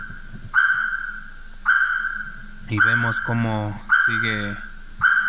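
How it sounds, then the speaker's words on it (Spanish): Car alarm siren of a Genius system in anti-theft mode, sending repeated loud electronic beeps in bursts about a second apart, with someone speaking over the middle pulses. "te manda los pitidos de la sirena"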